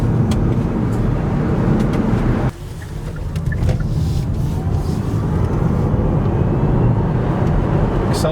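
Kia e-Niro electric car accelerating hard toward 60 on a road in the Lakes: a loud, continuous interior rumble of tyre and road noise, with a short dip partway through before the roar steadies again.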